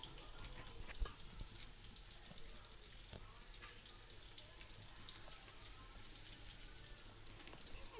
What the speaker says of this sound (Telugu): ఇప్పుడు ఇందులోకి కట్ చేసి పెట్టుకున్న ఆనియన్స్ని వేసి వేపుకుందాం